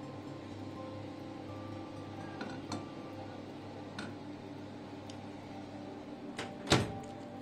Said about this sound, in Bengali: এবার আমি এর মধ্যে রেখে দিচ্ছি পিজাটা, সাবধানে রাখতে হবে।